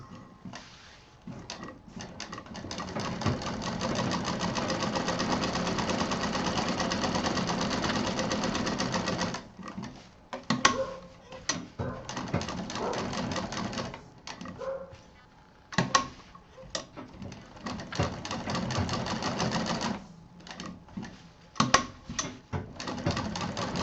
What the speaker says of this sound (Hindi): यहाँ से हम सिलाई शुरू करेंगे।